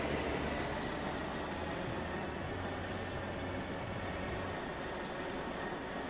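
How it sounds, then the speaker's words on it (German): A diesel train in the Transport Fever game runs with a steady, loud rumbling drone and rolling wheel noise, plus some high squealing tones near the start, continuous throughout. "Das Teil ist wieder mal sehr laut für ein Diesel."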